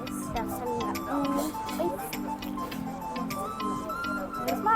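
Quick, regular ticking of clocks in a watch shop at the Thrissur Pooram exhibition runs throughout while a person talks over it.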